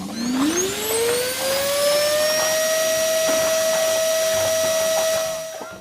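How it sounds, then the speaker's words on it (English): A Hoover Express vacuum cleaner motor spins up with a rising whine, then holds a loud, steady high-pitched drone with a faint rumble, close by and running alone. "let me show you just how well this vacuum works."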